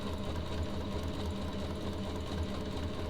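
A sewing machine stitches a baby blanket with a steady, fast mechanical whirring and rapid needle chatter, running continuously and close by.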